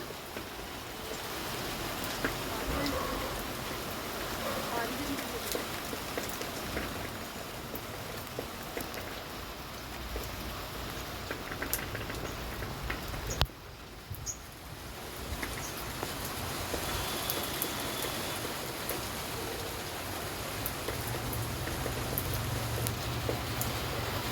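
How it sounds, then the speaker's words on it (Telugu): Steady rain falls on a rooftop vegetable garden, a constant even hiss of drops with faint leaf rustling, continuing unbroken apart from one brief dip. "సిరి వర్షంలో సిరి శోభ గారి వాళ్ళ మిద్దె పైన ఉన్న తోటనంతా చూస్తున్నారు"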